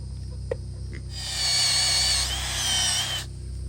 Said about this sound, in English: drill a hole in this cap.